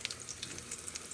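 Beguni, batter-coated eggplant slices, frying in oil in a home kitchen for iftar, producing a faint, steady sizzle with small crackling pops and no speech.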